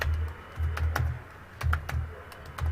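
Someone types Python code on a computer keyboard in short bursts of crisp, close key clicks separated by brief pauses.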